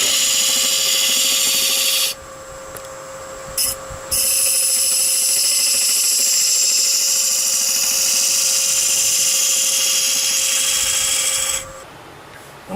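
Wood lathe turning a maple salt box, a steady high whining hum with a bright cutting hiss that cuts out twice briefly and stops near the end, close and loud.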